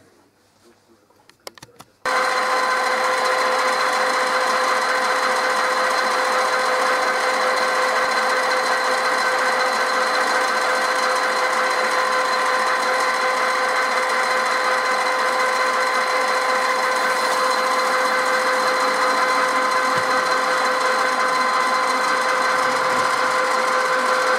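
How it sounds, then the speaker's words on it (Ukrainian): A lathe fitted with a boring head bores out a part in a workshop, a steady loud machining hum with sustained tonal whine running continuously after a brief quiet start. "тепер ставимо головку розточну і розточуємо"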